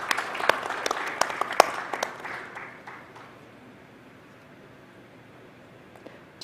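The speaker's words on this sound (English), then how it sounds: "Please could you join me in giving a round of applause to all of our panelists" Audience clapping for panelists at a conference, a moderate burst of applause that fades out after about three seconds, leaving quiet room tone.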